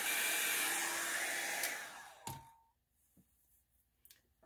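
A crafting heat tool set on low blows a steady airy whoosh while drying alcohol ink on glossy photo paper, then cuts off about halfway, followed by a few soft thunks and taps in near silence.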